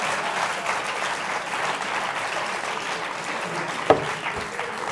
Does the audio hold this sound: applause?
yes